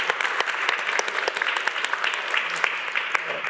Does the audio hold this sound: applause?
yes